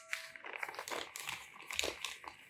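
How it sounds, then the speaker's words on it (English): Newspaper is crumpled into balls by hand, giving close, loud bursts of crinkling and crunching paper in uneven waves with brief pauses between handfuls. "The third word is crumpling."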